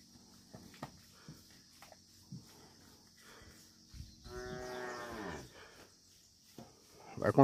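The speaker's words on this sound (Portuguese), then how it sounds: "Vaca!" A cow moos in a long, drawn-out call at a farm corral where cattle are being herded in for milking, preceded by scattered footsteps and small knocks, with a louder shout near the end.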